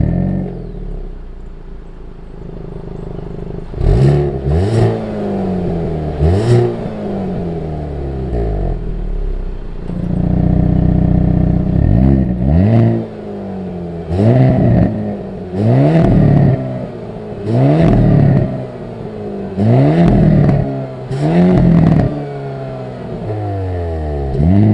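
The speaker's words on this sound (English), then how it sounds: "You also get an active exhaust, which sounds really good." A Hyundai Kona N's active exhaust revs hard repeatedly, rising and falling in a series of loud throaty bursts, with crackles between pulls.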